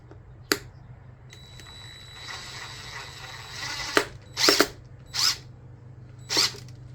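A hand screwdriver turns speaker screws while a 6x9 speaker is prepared for a Toyota Tacoma, making close ratchet-like clicks, then several short bursts of grinding turns with pauses between them.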